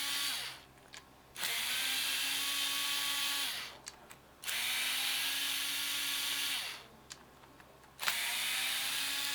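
Power driver with a Torx bit backing out the housing screws of an Oster hair clipper, heard as three steady whirring bursts of several seconds each, separated by short pauses with small clicks, loud and close.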